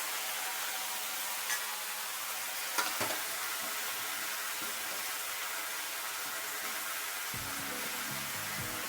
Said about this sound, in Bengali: টমেটোগুলো ভেজে নিচ্ছি